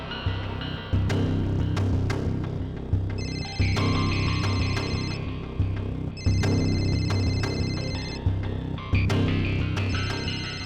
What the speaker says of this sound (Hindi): और ये जो बेल बज रही है,